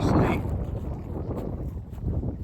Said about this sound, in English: Sorry about the wind. It's a very windy